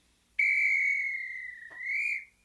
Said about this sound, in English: here is my start to a game whistle